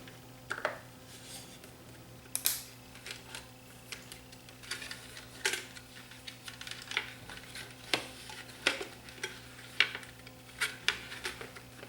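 Small screws being driven in to close the side cover of a JVC GY-DV500 camcorder during servicing: a dozen or so sharp little ticks and clicks at irregular intervals, close up and quiet against a steady low hum.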